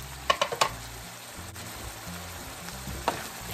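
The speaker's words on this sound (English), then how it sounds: "Put our spoon in there and move it around." Ground beef sizzles softly in a pan while a spoon moves it around, a few sharp scraping knocks near the start and another later over a low, even frying hiss; no one speaks.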